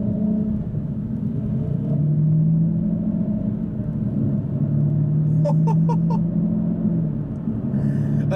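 An Aston Martin V12 Vantage S on the move gives a loud, steady, deep engine rumble heard from inside the car, with a faint series of light clicks toward the end.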